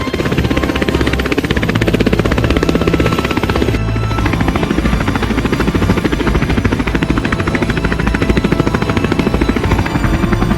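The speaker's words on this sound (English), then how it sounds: "Cobra helicopter inbound." A Cobra attack helicopter's rotor thumps steadily and loudly in a video game, with a dense roar of engine and battle noise underneath, continuous throughout.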